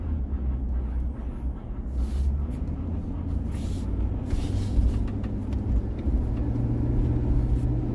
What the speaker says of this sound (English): It's unbelievable how much traffic is in this town now.